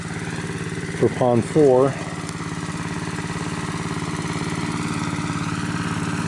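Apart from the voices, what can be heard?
engine-driven water pump running at a pond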